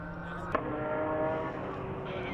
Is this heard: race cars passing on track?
yes